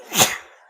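A single short, sharp sneeze, close and fairly loud, with a breathy burst that fades quickly.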